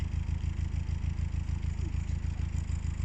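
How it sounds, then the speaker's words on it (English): A boat engine with a propeller runs steadily after starting near a canal lock, giving a low, even idling chug with a regular pulse throughout. "The engine started and the propeller is clear."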